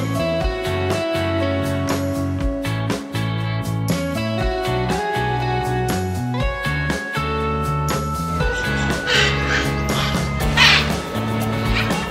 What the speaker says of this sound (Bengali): পাখিদের আওয়াজ শুনছো।